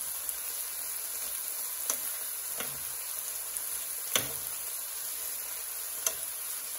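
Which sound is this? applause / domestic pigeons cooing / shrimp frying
shrimp frying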